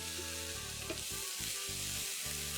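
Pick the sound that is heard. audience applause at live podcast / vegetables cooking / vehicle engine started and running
vegetables cooking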